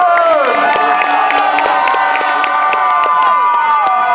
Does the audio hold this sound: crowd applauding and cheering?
yes